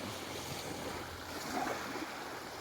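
Sea waves wash steadily along the shore at Ginyangan, Quezon, with a soft continuous surf roar and some wind noise, faint and without voices.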